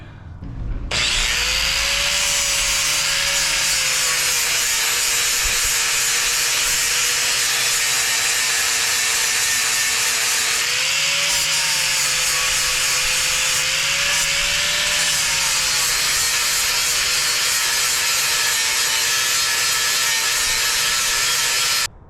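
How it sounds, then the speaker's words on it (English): An angle grinder works on a steel bumper during installation, a loud, continuous high-pitched whine that dips in pitch under load around the middle before recovering, heard close up and alone. "But I just gotta hit everything with a grinder and get it like the other side."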